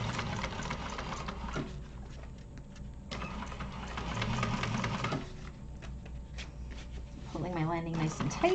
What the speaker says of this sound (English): we're going to top stitch through the lining to hold that seam in place